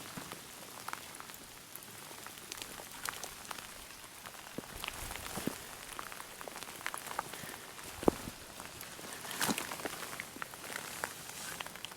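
Steady rain patters on a surface, dense and continuous with scattered louder drops close by, no voices.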